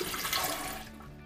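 Water pours from a water cooler into a cup while latte is being made at home, a brief close splashing flow that tapers off near the end, with no talking.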